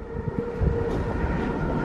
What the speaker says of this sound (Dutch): Trein. Welke trein?